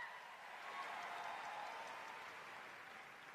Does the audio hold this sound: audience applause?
yes